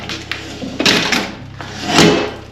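Heavy metal door of a safe torn from a wall, creaking and clunking as it is swung by hand, several knocks and scraping movements in close succession, loud and near.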